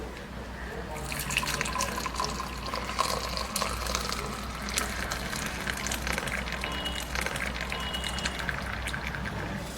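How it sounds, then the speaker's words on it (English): Coffee boils in a pot on a stove in an Indian household kitchen, making a soft bubbling, watery simmer. Steady faint sizzling and dripping-like sounds continue throughout. "Just gonna boil it 3-4 times, like till that boil comes."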